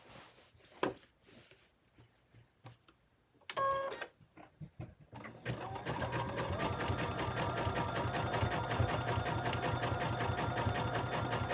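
A sewing machine stitches a zigzag seam on an upcycled Crown Royal shirt, starting with short stop-start bursts and clicks, then settling into a loud, continuous rhythmic whirring run.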